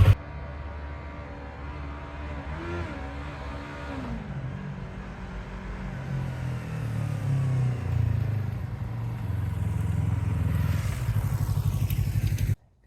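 A motorcycle engine starts with a sharp burst, then idles and runs steadily close by, its rumble rising slightly before it cuts off abruptly at the end.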